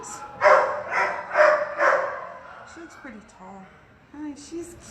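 Several dogs bark in bursts at an animal shelter's kennel area, loud repeated barks early on, then quieter yips and whines as a person's voice carries over them.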